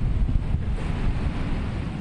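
Wind blowing across a hot beach on the coast of Lagos, a steady low roar buffeting the microphone, with a faint wash of surf beneath and no voices.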